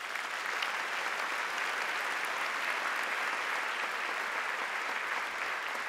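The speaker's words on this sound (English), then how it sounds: "let's give them a big round of applause" Audience applause for event sponsors at an oration, a steady dense wash of clapping from a large crowd lasting the full stretch with no voices.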